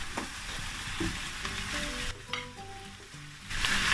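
Sweet peppers and Scotch bonnet sizzling in a hot pan for pepper steak, stirred with clinking, scraping strokes over a steady hiss that swells louder at the end.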